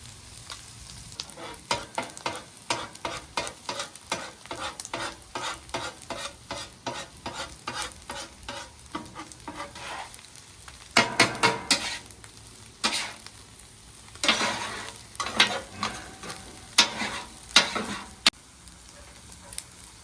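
Fried rice frying on a hibachi griddle in beef tallow crackles and sizzles under repeated metal spatula scrapes and taps, a quick rhythmic run of clicks, then louder, busier bursts of chopping and stirring.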